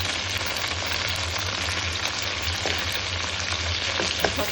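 Ackee and chicken back frying in a pan give a steady, dense sizzle that holds at an even level throughout, with small crackles and pops and no voices.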